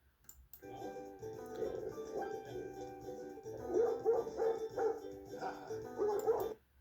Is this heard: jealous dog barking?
yes